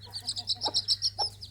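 A young chicken, a chick of a crested breed, clucks and chirps in a steady run of short high calls, close by and fairly loud, with a low hum underneath.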